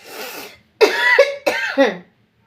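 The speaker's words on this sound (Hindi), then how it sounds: "सॉरी बच्चों माफ करना, खांसी बुखार जुकाम है मुझे।" Several harsh coughs from one person, a short one followed by two louder, throaty bursts close to the microphone, with silence between them.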